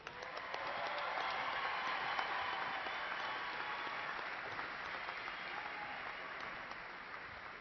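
An audience at a spring university commencement applauds the graduates. The clapping is broad and sustained, and it heard from a distance in a large hall at a low, even level.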